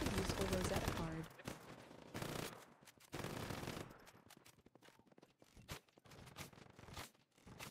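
Rifle fire in the video game Once Human, several heavy bursts at the start, followed by sparser sharp shots and clatter, loud and close.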